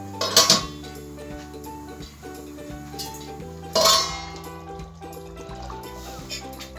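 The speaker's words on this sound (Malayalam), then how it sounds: "നമുക്കിത് മൂടി വെക്കാം." A lid set onto a pot of Kerala-style fish curry, two metallic clanks a few seconds apart, close and bright, over a soft steady background tone.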